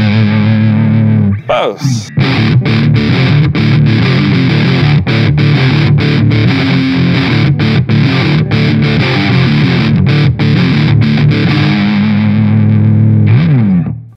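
Heavily distorted electric guitar, a Squier Affinity Stratocaster played through the neck pickup, strums loud chords and riffs continuously after a brief spoken word, ending on a sustained ringing chord.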